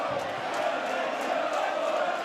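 A rugby league crowd at a Wakefield v Leeds Super League match roars in a steady, broad wash of cheering and shouting, dense and continuous for a couple of seconds without a break.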